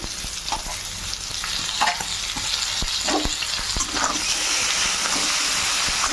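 Potatoes fry with chopped tomato and spices in a hot pan for a loud, continuous sizzle, broken by the scrape and clatter of a spoon stirring at irregular moments.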